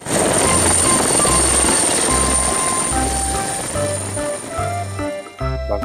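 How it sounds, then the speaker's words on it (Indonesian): A toy helicopter gives off a steady, loud electronic whir with a rhythmic low pulsing that runs the whole time and then breaks up near the end. "helikopter"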